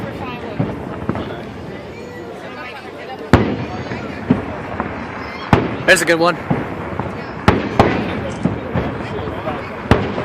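Fourth of July fireworks in Washington DC near the White House: sharp scattered bangs and crackling bursts, some loud and near, over a murmuring crowd, with people talking between the explosions.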